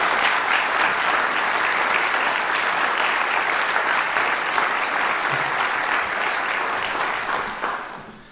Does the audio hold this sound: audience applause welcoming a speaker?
yes